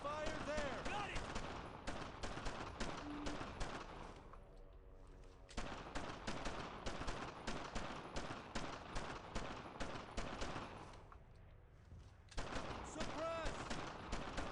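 Sustained bursts of automatic rifle and machine-gun fire in a World War II shooter, Brothers in Arms: Earned in Blood, loud and rapid with two brief lulls, shouted squad voices mixed in.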